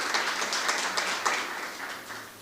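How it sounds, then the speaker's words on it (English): Audience applause for a speaker at an entrepreneurship competition's regional event, a moderate, steady patter of many hands clapping at some distance, fading slightly by the end. "A round of applause for Dr."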